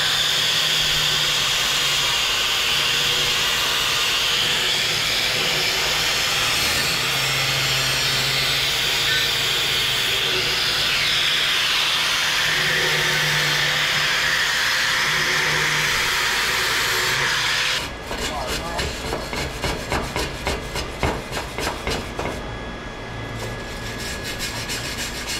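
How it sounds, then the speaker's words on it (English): A wire wheel grinds a broken exhaust pipe before welding, producing a loud, continuous, harsh whirring scrape that runs steadily for most of the clip, then shifts to a rougher, choppier grind near the end. "I'm gonna hit this with the wire wheel as much as I can so we can get a better chance of a good weld"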